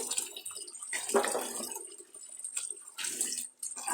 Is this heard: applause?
no